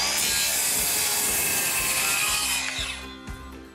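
A Narex saw cuts through wooden pallet boards in steady, rasping strokes, a dense continuous sawing noise with rhythmic low pulses, close and fairly loud before easing off near the end.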